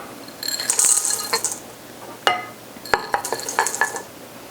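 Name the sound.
mixing chocolate chips into cookie dough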